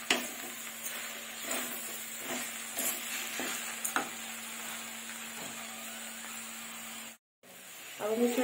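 Okra and spices are stirred in a frying pan with a utensil, a close series of scraping strokes over a soft steady sizzle, with a brief silent gap near the end.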